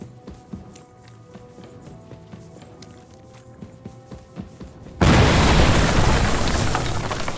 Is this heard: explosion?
yes